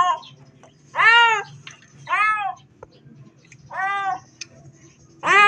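A trapped kitten cries for help with four loud, drawn-out meows spaced about a second apart, each rising then falling, heard alone over a low background hum.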